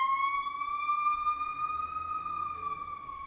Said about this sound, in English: Another Sirens. emergency.